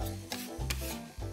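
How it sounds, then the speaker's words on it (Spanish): Orange or lemon peel rasps against a grater in a kitchen, zest for a festive sweet bread dough. Several close, rhythmic scraping strokes come with short gaps between them, quiet and with no voices. "vamos a hacer un poquito de ralladura, que a mí me gusta tanto de naranja o de limón"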